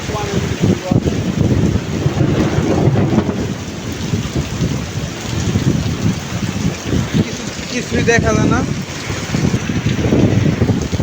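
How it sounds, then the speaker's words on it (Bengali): Heavy rain pours steadily with gusting wind and rumbling thunder in a dark storm over a shop area, loud and continuous, with someone speaking briefly over the downpour. "তো অনেক বৃষ্টি হইতেছে"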